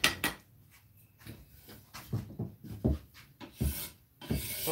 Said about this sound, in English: I'm scraping this handle. This is a scraper.